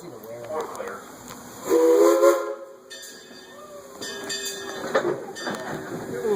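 Train ride on the Frisco Silver Dollar Line, heard from the running board of car 2, with a steady rolling rumble, a loud whistle-like tone near the middle and other tonal sounds layered over it. Faint voices may be present underneath.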